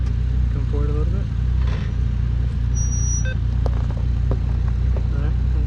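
A Toyota 4Runner creeps slowly forward on a rocky mountain trail, its engine a low, steady rumble up close while a man calls out short directions over it.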